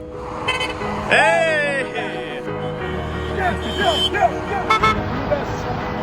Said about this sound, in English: Can I get a honk?